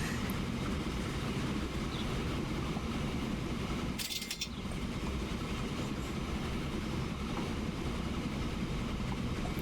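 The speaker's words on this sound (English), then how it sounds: "Alright, here comes our train." Train pulling into a station in the Transport Fever railway simulation game, a steady rumbling wagon roll with a faint clickety-clack running throughout, plus a brief bright clatter midway.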